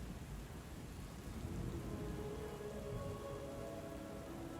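Storm in the occult library game Book of Hours: steady rain patters on surfaces while low thunder rumbles through, faint and continuous with no voices.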